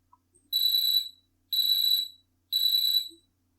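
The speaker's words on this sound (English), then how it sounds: "alarm sound" A Pomodoro timer alarm gives three evenly spaced, identical high electronic beeps, each lasting about half a second, loud and clean against silence.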